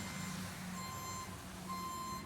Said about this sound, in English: I hate backup sirens.